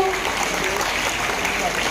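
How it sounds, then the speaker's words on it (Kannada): Audience applause at the Yuva Spoorthi Awards 2025 ceremony in Kolar's Rangamandira hall, a dense, steady wash of many hands clapping together, close and sustained without a break. "ಜೋರದ ಚಪ್ಪಾಳೆ ಬರಬೇಕು."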